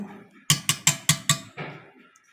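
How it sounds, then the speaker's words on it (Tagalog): A spoon clinks against a bowl while buko pandan salad is mixed: five sharp, evenly spaced taps in quick succession, followed by a softer scraping stir. "Ayan, gawin lang natin ng haluin."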